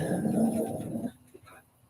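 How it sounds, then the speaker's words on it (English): A dog growls and barks at birds, a rough, close vocal burst lasting about a second before fading into quiet room noise. "Of all the times, Ted, you could pipe up and start barking at the birds."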